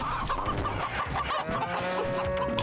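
Chicken clucking in the video game Moving Out, repeated short clucks over a busy, continuous game soundscape with a steady tone running underneath.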